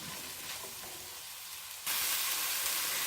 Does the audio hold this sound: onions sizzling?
yes